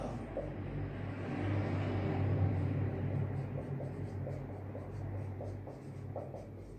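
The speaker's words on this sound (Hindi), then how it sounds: "चलो यहां लिखता हूं" Chalk or marker scratches across a board in a seminar-style lesson, quick strokes repeating in short bursts over a steady low hum and rumble in the room.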